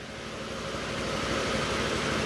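Honda Click 125 scooter engine idling after an overhaul, a steady, smooth, moderately loud hum running without pause and swelling slightly toward the end.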